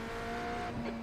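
Race car wheel locking under braking in a racing simulator game, a short tonal tire squeal over steady engine drone lasting about a second, fairly loud and continuous.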